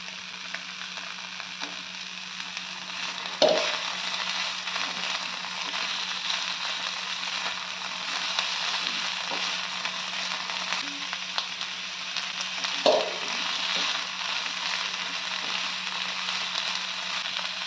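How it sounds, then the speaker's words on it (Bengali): Chicken pieces fry in a pan on a gas stove with capsicum, chopped green chilli and tomato for a chicken pizza topping, giving a steady, close sizzle throughout with two brief utensil knocks. "চিকেনটা একটু ভাজা ভাজা করে নিয়ে দিয়ে দিচ্ছি ক্যাপসিকামের টুকরোগুলো আর দিয়ে দিচ্ছি কাঁচা লঙ্কা কুচি আর টমেটো কুচি"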